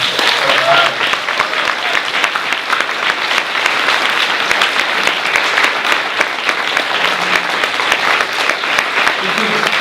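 A banquet crowd gives a loud, sustained round of applause for Sodexo catering staff, dense clapping filling the room for about ten seconds, with some voices mixed in.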